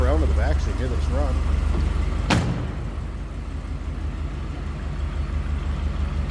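A 1955 Ford Thunderbird with a 292 engine idles with a steady low rumble heard from behind the car, after brief talk and a single sharp click.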